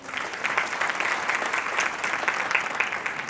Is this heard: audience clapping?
yes